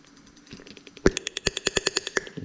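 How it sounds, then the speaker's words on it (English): Rapid, regular mechanical clicking of a fuel injector driven by a Link engine management unit, close and loud, starting after a brief lower hum and continuing in an even, fast rhythm. "You can hear that clicking away like mad."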